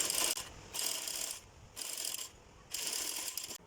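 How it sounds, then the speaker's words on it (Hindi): Sewing machine stitching the fabric of a baby skirt, three loud bursts of rapid mechanical stitching separated by short pauses, alone without any talking. "इसके भी हम ऊपर की तरफ करते हुए ऐसे सिलाई लगा देंगे।"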